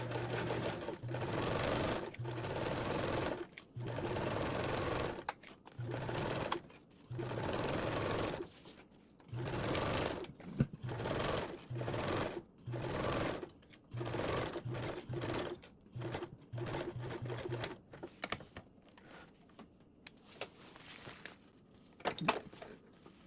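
Sewing machine back tacking and basting the seams of a convertible duffle bag: steady whirring runs with a constant hum, broken by short pauses and quick restarts, and a few faint clinks near the end.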